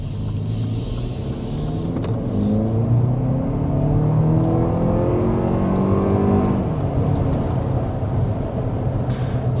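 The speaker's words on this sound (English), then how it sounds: "we want to go ahead and start with a hard acceleration" A Lexus TX 500h F-Sport hybrid SUV accelerates hard from inside the cabin, a steady loud engine and drivetrain drone climbing in pitch over several seconds before easing into a sustained rumbling whir.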